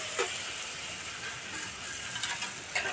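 Chopped tomato frying in a pan for mustard hilsa curry makes a soft, steady sizzle with a few faint stirring scrapes.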